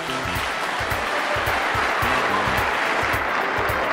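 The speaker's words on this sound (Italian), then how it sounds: "un bel applauso di incoraggiamento" Encouraging applause from an audience at an Italian televised song festival as a young finalist is introduced, a steady, moderate clapping wash with rhythmic low thumps running underneath throughout.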